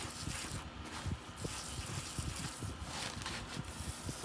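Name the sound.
water poured to soak dry worm bin bedding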